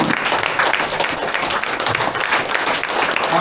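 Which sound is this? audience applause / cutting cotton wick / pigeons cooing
audience applause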